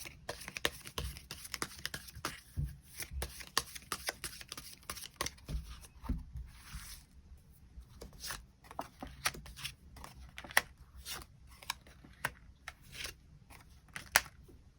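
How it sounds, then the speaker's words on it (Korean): A deck of tarot cards is shuffled and drawn in a rapid run of soft, papery riffles and slaps, close by and fairly quiet, with no talking. "그 부분에 대해서 추가 카드 뽑아보도록 하겠습니다"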